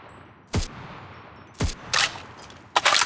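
A submachine gun firing in the WWII shooter Enlisted: several short, sharp bursts with gaps between them, loud and close, the last burst a rapid cluster of shots, with no talking.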